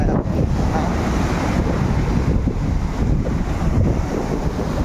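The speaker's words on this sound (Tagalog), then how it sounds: "Lasang alon ngayon, high tide." High-tide waves wash onto a beach at a resort in Balatan, Camarines Sur, a constant roaring surf heavily buffeted by wind noise on the microphone, loud and close.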